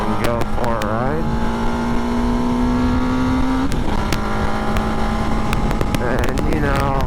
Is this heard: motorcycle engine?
yes